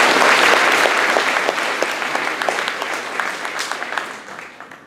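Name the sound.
audience applause at a school concert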